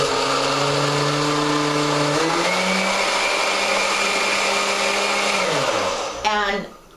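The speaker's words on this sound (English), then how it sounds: "you're going to hold it just like you would a Nutribullet or a Magic Bullet, because you're pulsing down on it, and just turn it on" A homemade Nutribullet-style personal blender runs with a loud, steady motor whine that shifts pitch partway through, then spins down and cuts off near the end.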